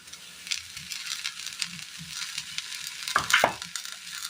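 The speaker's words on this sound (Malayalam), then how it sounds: "ഈ ചതച്ചെടുത്ത തേങ്ങയുടെ കൂട്ട് ഇട്ട് ഇതിലേക്ക് ഇട്ട് കൊടുക്കാം" Crushed coconut mixture for a Kerala thoran dropped into a hot pan, giving a steady close sizzle with a few sharp scraping stirs near the end, no talking.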